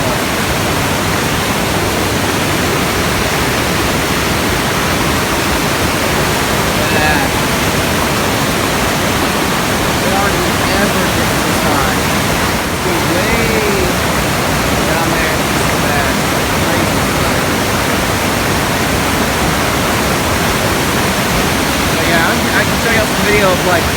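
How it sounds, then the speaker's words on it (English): Huge waterfall on a river flooded by heavy December rains, a loud, steady broadband roar of rushing water that fills the whole span without a break. "It's this huge ass waterfall."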